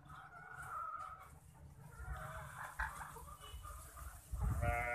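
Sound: layer hens on a farm

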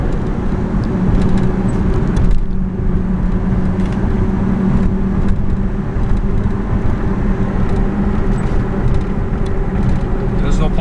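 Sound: 2004 Toyota Tacoma V6 pickup truck driving

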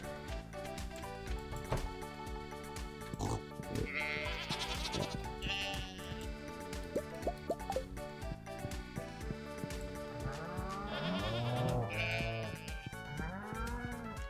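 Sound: goats bleating in Stardew Valley video game

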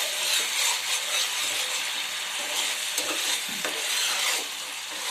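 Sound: food boiling in pan

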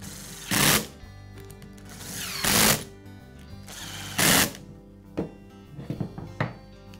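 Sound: screwing the cover onto a Metabo angle grinder

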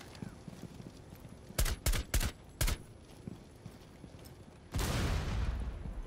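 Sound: gunfire in the video game Rainbow Six Siege

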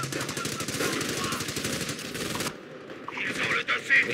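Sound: sniper rifle firing in the video game Company of Heroes

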